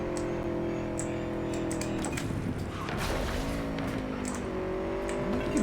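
A car driving in Cyberpunk 2077, with a steady engine drone that rises and falls in pitch as it accelerates and shifts, plus scattered small clicks, with no talking.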